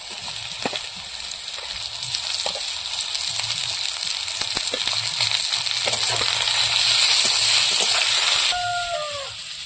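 Onion and eggplant frying in a pan of oil for a rustic river-fish curry, giving a steady, fairly loud sizzle that runs through and grows slightly stronger before easing near the end.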